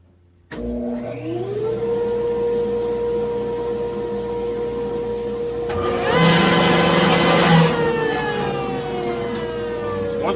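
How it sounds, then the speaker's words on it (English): A woodworking machine starts up abruptly and runs loudly and steadily with a dust collector attached, droning with sustained tonal hum, swelling louder partway through before settling again. "we've got this thing hooked to a dust collector, and so if you like racket, we fix and turn it on"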